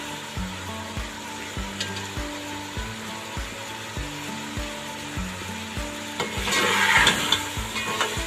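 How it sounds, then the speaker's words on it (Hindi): Chickpeas being stir-fried in spice masala in a kitchen pan, with a steady rhythmic scraping of the spoon repeating about twice a second and a sizzle that swells louder near the end. "तो ये हमारे चने भुने जा चुके हैं।"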